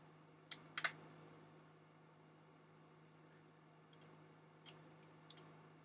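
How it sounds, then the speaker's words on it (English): Faint, sparse ticks and small clicks from a Rolleicord Vb camera's shutter self-timer mechanism, a few sharp taps early on and lighter ones later, over a steady low hum. "I'm hearing a little countdown mechanism inside"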